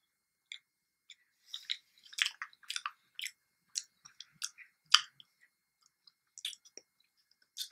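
Close, crisp chewing and crunching of Reese's peanut butter cups pressed hard in a waffle maker, with irregular bites and munches spread over several seconds in a quiet room.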